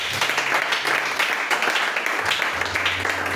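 Church congregation applauding during a French-language worship service, a steady dense wash of clapping lasting the whole moment with a low hum underneath.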